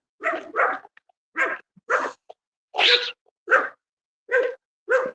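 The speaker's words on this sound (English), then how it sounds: "It's a doggy." A dog barking in a steady series of about eight short, sharp barks with brief gaps between them, loud and close with no talking over them.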